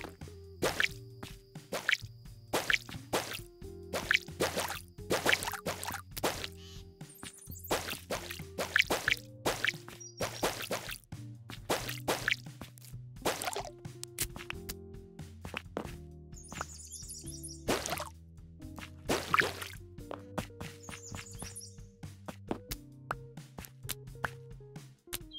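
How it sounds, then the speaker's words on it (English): Plants are watered in modded Minecraft, a dense run of game sound effects: repeated splashy plops, soft thunks and footstep-like taps, with occasional chirps, steady and close over about 25 seconds. "Now it's watering time."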